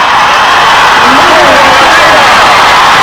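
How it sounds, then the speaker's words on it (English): A small high-school football crowd of a few hundred roars and whoops after a 65-yard run in a 1996 Illinois 4A semifinal, a dense, steady wall of cheering filling the whole stretch, with voices mixed in. "listen to the crowd. They're just going nuts already"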